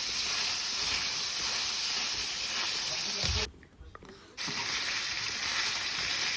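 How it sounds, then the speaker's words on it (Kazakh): Meat frying in hot oil for Kazakh palau: a loud, dense sizzling hiss fills the scene, breaking off briefly midway before resuming just as strong. "қызып тұрған майымызға қуырып алатын боламыз."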